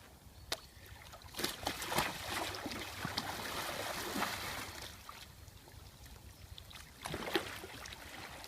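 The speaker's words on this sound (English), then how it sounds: "I also believe another one of my strengths is being able to roll a kayak." Kayak rolled over in cold water, with quiet sloshing and splashing close by and a few sharper splashes standing out.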